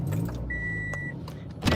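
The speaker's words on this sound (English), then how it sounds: "I opened the window." A car's electric power window motor hums with a steady whine for about half a second as the window opens, heard inside the vehicle over a low engine rumble.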